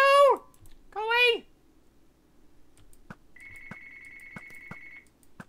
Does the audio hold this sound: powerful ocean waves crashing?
no